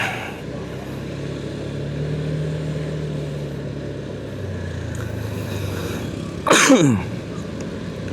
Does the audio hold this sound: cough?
yes